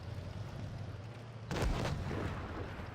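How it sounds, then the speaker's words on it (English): A tank cannon shot ricochets off armor in World of Tanks Blitz, a sharp booming impact with a metallic ring that cuts in abruptly over steady low engine rumble and lingers for over a second. "So we ricochet the shot."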